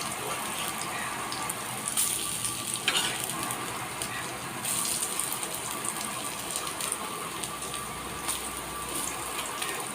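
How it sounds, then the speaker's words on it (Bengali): Steady crackling sizzle of lentil fritters frying in hot oil, close up, with occasional scraping and turning sounds. "ওই পিঠ একটু উল্টাই দিবেন, তো বড়াটা ভালোভাবে ভাজা হবে।"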